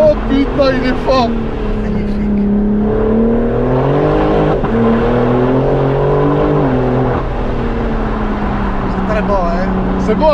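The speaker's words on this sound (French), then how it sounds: "C'est beau à faire glisser," A car drifting hard on a closed mountain road, its engine droning and revving steadily throughout, with excited voices talking over it.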